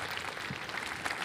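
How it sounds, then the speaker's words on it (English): Steady audience applause at a large speech event, dense and continuous clapping filling the space at moderate distance with no voices standing out. "let's just have a massive round of applause"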